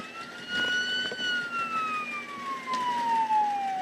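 Police car siren wailing in a long, slowly falling sweep, loud and steady across the whole stretch, heard plainly with no talk over it.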